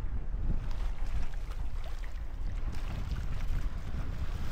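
Sailboat running under engine off Sardinia, a steady low engine drone mixed with wind buffeting and water rush, continuous and fairly loud throughout.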